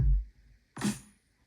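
A single snare drum hit rings out with a sharp crack and short noisy decay, following a brief low thump; no other sounds.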